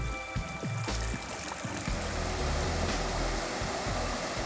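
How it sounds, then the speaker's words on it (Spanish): A river flows over rocks with a steady, close rushing wash, broad and continuous, with faint intermittent lower rumbles beneath the water noise. "sus aguas discurren a velocidad media y el sonido relaja al caminante"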